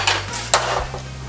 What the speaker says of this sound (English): Who doesn't love popping open a fresh can of refried beans, huh?